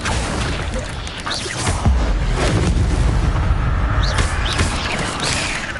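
The Incendio fire spell is cast in Hogwarts Legacy, a dense whooshing roar of flame with booming bursts, loud and sustained throughout amid other combat noise.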